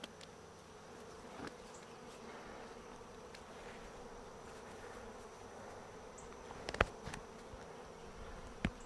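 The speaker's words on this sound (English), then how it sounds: "That is a lot of bees" A dense, steady buzz of a massive honeybee swarm on a tree hums throughout, soft and continuous, with a few faint clicks and knocks nearby.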